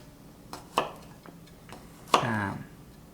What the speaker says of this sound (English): So the first thing we're going to start with is chopping the garlic.